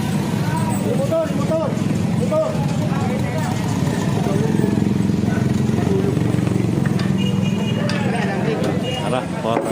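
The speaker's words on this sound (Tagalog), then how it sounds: "Motor." Motorcycle engine hums steadily nearby amid busy street traffic, with people talking loudly over it throughout.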